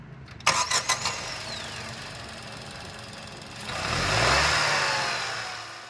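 A Tata Punch three-cylinder turbo car engine cranks and catches with a few sharp knocks, then idles steadily and swells briefly as it revs, recorded close up.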